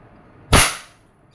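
A single sharp, loud report from a WG 708 revolver fired double action at a Red Horse beer bottle, a crisp crack that fades quickly into a short echo.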